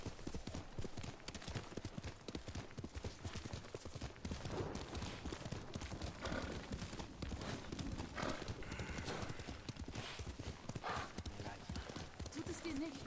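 Galloping horse hooves pound in a fast, continuous rhythm in Ghost of Tsushima, with an occasional whinny and game voices talking over the hoofbeats.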